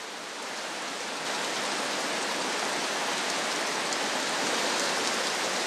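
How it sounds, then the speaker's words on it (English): Heavy tropical rain pours down on Sumatra in a dense, continuous hiss that swells slightly louder after the first second and holds steady throughout. "Such huge quantities of rain give life to numerous streams"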